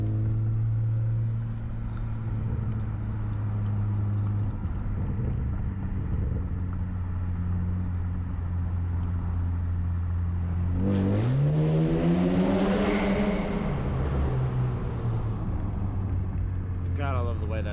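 A BMW 335xi with the N54 engine idles with a low rumble, then accelerates hard in a street pull, its engine note climbing loudly before easing off. Close and strong, with no talk over it.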